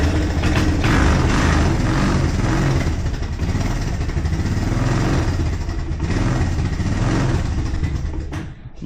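A refurbished four-wheeler ATV engine, running cold with a little choke, sputters into a loud, rough, steady idle close by, then cuts off abruptly at the end.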